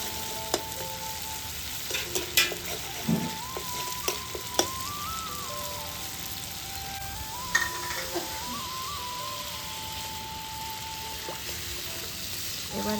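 Mustard paste hitting hot oil in a frying pan while cooking koi fish, a steady close hiss and sizzle broken by a few sharp spatters and occasional stirring, with no voices.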